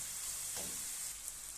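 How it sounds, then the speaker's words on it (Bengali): Spices frying in a pan and being stirred, a soft, steady sizzle with a brief scraping stir partway through, close and fairly quiet. "মশলাটা দিয়ে আমি একটু লাড়া ছেড়ে নেব।"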